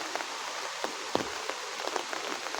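Rain patters steadily on plants outdoors in a hissing wash of drops, with a few sharper, louder drips standing out now and then.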